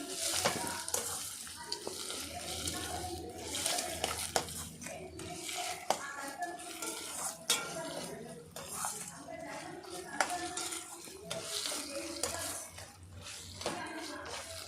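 A spoon scrapes and stirs salt into gongura pulihora in a pan, giving irregular clinks and scraping under a faint frying hiss, continuous and moderately near.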